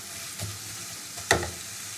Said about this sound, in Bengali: নেড়ে পেঁয়াজটাকে খুব ভালো করে ভেজে নেব